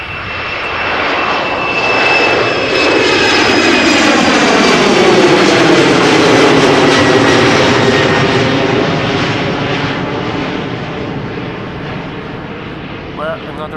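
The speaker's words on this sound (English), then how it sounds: "another Embraer just took off" Embraer jet taking off at Amsterdam Schiphol Airport, a loud roaring engine that swells as it passes, then slowly recedes with a sweeping whine over about fourteen seconds.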